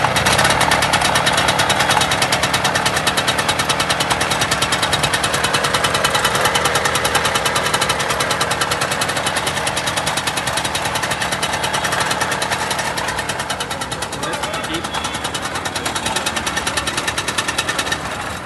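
A vintage moped engine, started with its pedals and a decompressor, runs steadily for the whole stretch, a loud, continuous buzzing two-stroke chatter close by with no talk over it.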